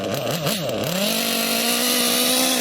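Nitro RC engine screaming through a high-speed pass after a clockwise high-speed needle adjustment, a loud continuous buzzing whine that rises sharply in pitch, wavers briefly, then holds a steady high rev, close and alone without talk.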